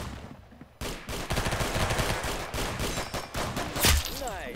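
Pistol gunfire in the Roblox game Arsenal, a rapid run of sharp, close shots through most of the clip, with one heavier blast near the end and a speaker's excited voice faintly underneath.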